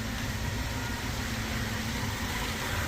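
A Daihatsu Xenia sits with its warm engine idling in a repair shop, a steady low hum holding evenly throughout, moderately close and unbroken, with no voices over it.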